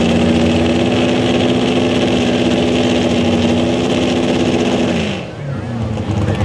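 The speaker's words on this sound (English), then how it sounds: "You hear that truck rev really high." A 650 cubic inch naturally aspirated non-Hemi wedge engine in a pulling truck roars loudly and steadily at high revs on a tight chain, then drops off abruptly near the end.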